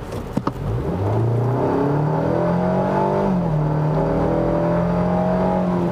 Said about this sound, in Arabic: سمعكم شويه التسارع تبعها يعني حط هلا آه، اول جير وادعس